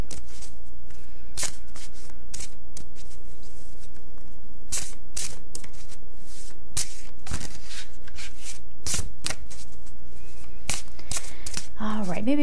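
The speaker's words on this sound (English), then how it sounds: "All right, maybe one more shuffle." Oracle cards shuffled by hand in repeated short riffling bursts, each a crisp papery flutter, spaced irregularly over a quiet room with a steady low hum underneath.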